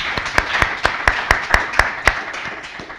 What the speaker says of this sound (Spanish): Un aplauso para don Francisco